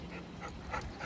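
A dog named Luigi panting close by, with soft whimpers breaking through the quick, steady breaths.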